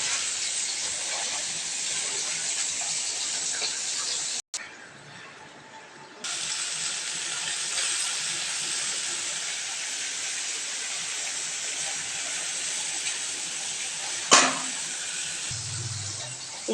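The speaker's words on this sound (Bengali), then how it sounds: "তেলটা গরম হয়ে গিয়েছে, এবার মাছগুলো ভেজে নেব।" Bata fish fry in hot oil in a kadai, a steady loud sizzle and hiss that runs continuously with a brief dip midway and a sharper crackle near the end.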